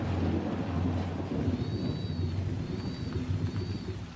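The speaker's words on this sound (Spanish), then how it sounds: "empezó a llover" Steady rain falls with a deep, continuous rolling rumble of thunder throughout, loud and close, with no voices.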